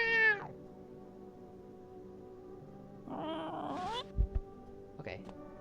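A cat meows in a video game, a short harmonic cry at the start and a longer wavering meow a few seconds later, with a faint chirp near the end over a quiet backdrop; a few soft thumps sit between.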